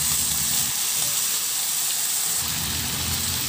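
Chicken pieces searing in a little oil in a pan until browned on both sides, a steady close sizzle and hiss with no talking throughout.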